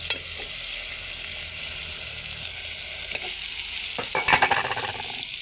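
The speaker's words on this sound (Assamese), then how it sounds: "দেখিছে ন ফুটি তেলটো ওলাবলৈ লৈছে ফুটি মাংস গাৰ পৰা তেলখিনি ওলাবলৈ লৈছে" Meat frying in hot oil in a pan as fat renders out, a steady loud sizzle throughout, with a burst of clattering stirring near the end.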